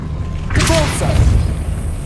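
A Repulsor spell blast fired in Hogwarts Legacy, a sudden loud booming burst that rings out and decays over a second or so amid game ambience.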